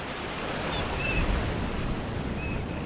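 Strong ocean waves breaking on a rocky shore, a loud, steady wash of surf swelling slightly in the middle, with a little wind noise and no voices.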